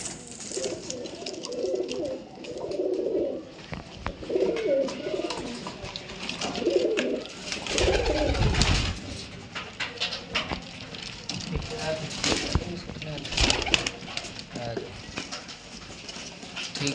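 Pigeons kept in pairs, eight birds offered for sale, coo steadily in soft, rounded phrases, close by, with occasional background voices.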